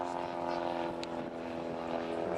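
Pitts S1S aerobatic biplane flying rolls in an air festival display, a steady propeller and engine drone with a sustained harmonic tone from the distant aircraft, heard beneath a commentator's voice.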